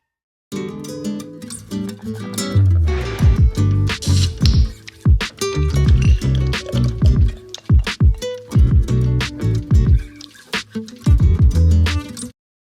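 Beer poured into a glass, with irregular glugging, splashing and fizzing bursts in uneven clusters, close and fairly loud, with no speech.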